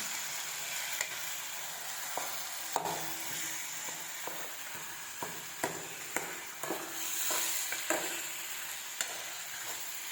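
Small onions and pieces of country chicken sizzle steadily in a pan for a chicken curry, with a bright continuous hiss broken by repeated scraping clicks of stirring, close and fairly loud.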